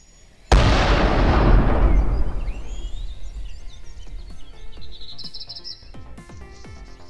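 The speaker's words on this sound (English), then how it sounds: "let's play back the final explosion effect" A composited stock-footage explosion effect bursts with a sudden loud blast that decays into a long rumbling tail, followed by scattered crackles and debris patters as it fades.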